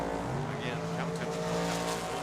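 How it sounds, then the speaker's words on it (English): A drag racing dragster roars off the line at Tucson Dragway, with loud sustained engine noise and a few rising whines through the whole stretch. An announcer talks over it. "Here comes the dragster."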